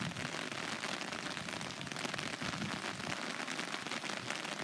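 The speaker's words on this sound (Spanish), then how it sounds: "esto ya es una mezcla de granizo, nieve y todo ya" Hail mixed with snow falls outdoors at a men's elite and under-23 cyclocross race in Garai, a steady dense patter that stays faint and even for several seconds with no talk.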